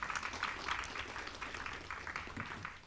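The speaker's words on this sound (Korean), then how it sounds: "다시 한번 뜨거운 박수 부탁드리겠습니다" An audience at a Gwacheon city-development public forum gives a speaker soft, continuous applause, a dense wash of many hands heard from a distance, fading slightly at the end.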